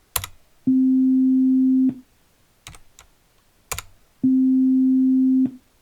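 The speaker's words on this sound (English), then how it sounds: "We compare that to the original unshaped tone." Two steady, unchanging synth tones, each held about a second with an abrupt start and stop, separated by brief clicks and clatter.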